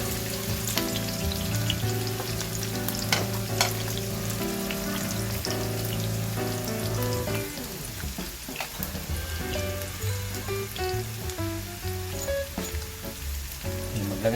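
Onion and then garlic frying in a pan for pork intestine adobo, a steady close sizzle that persists throughout with occasional spatters, no talking.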